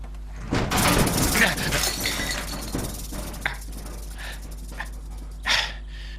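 Glass antivenom vials shattering in a sharp crash followed by tinkling fragments and shuffling, with heavy breathing and a low constant hum underneath.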